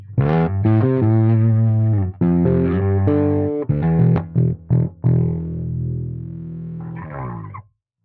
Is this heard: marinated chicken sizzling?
no